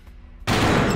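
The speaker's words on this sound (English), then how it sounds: "So I'm gonna shoot this" A single loud gunshot from the video game Killer7 bursts in abruptly after a brief quiet lead-in and rings on as a sustained blast to the end.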